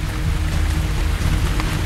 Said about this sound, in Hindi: शनिवार देर रात से जो बारिश का सिलसिला शुरू हुआ वो थमने का नाम नहीं ले रहा है